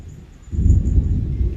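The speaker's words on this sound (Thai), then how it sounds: "อุ้ยเสียงฟ้าร้อง" A deep, low rumble of thunder rolls in suddenly and holds steady, loud and fairly close, with no one speaking.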